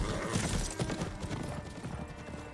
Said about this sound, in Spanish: cuando ha llamado al caballo